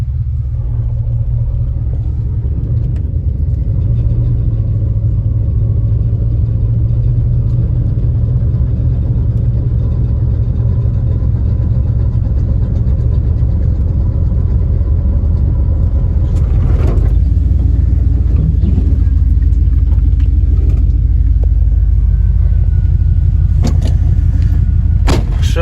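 A truck engine rumbles loud and steady at close range throughout while a firewood load is dumped, with a brief clunk partway through and a few knocks toward the end.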